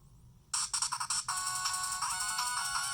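A Bittboy v1 handheld game console, a Game Boy-style clone, switching on with a bright electronic startup jingle. A few quick chiming notes lead into a steady sustained tone, heard close and alone after a quiet start.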